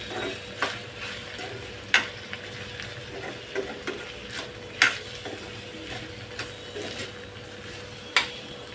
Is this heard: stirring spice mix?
yes